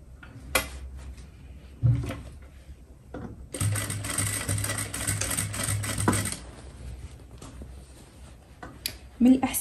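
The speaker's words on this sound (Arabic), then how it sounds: "غادي نبدا الخياطه، غادي نخيط هكا وغنمشي على الدوره كامله حتى نوصل هنايا" A sewing machine stitching a waistband onto trousers runs in a steady burst of a few seconds, bracketed by handling clicks and thumps, with someone talking around it.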